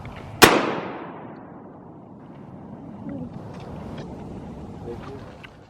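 A single loud, close shotgun blast fired at wood ducks on a cold morning hunt over water, with a long echoing decay, followed by quieter talk and movement.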